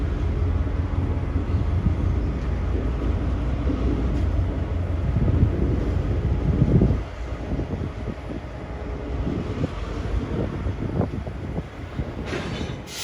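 Locomotive 2002 crawls through a switching move on tight industrial track, a loud, close rumble with wheel squeal and low clanking as it works the sharp curve.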